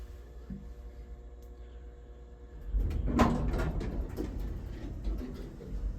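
ThyssenKrupp Oildraulic CIM 20 hydraulic elevator door operator in Aspinwall, PA, a low motor hum followed by a rolling rumble and a clunk as the doors move, fairly close, steady for several seconds, with no talking.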